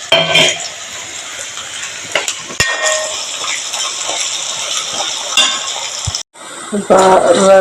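Garlic frying in a pan of oil alongside onion and green chilli for a brinjal stir-fry, a close, steady sizzle with occasional stirring clinks and scrapes.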